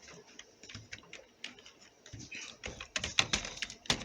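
Fingers type data into Google Sheets on a computer keyboard, producing quick, irregular, close key clicks that grow busier toward the end, with a voice speaking now and then over the tapping.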